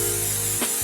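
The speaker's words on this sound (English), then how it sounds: "we're gonna spray our pans with Pam or butter flavor" Butter-flavor Pam cooking spray is misted onto muffin pans for carrot cake muffins, heard as one short hissing burst near the end under a steady background hum.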